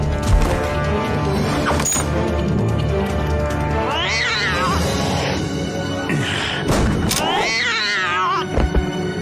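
A cartoon cat in the French animated series Galactik Football lets out loud, wavering meows and caterwauling cries mixed with hissing, amid a busy soundtrack with some voices.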